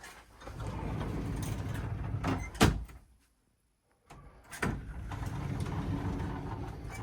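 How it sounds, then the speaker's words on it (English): An interior door inside a Holiday Rambler motorhome bumps and latches shut with a sharp knock, followed by a moment of near silence and then another thud and rattle nearby. "This door behind you, this door is closable."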